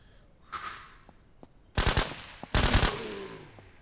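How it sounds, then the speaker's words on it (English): Gunfire from a weapon in the zombie survival game SurrounDead: two loud, rapid automatic bursts, each lasting about half a second, preceded by faint quieter game sounds. "This gun's really kicking up all over the place."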